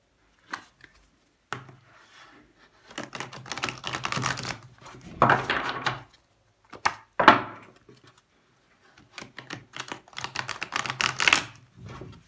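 Tarot cards are shuffled in several bursts of rapid riffling and flicking, close and crisp, separated by short quiet pauses.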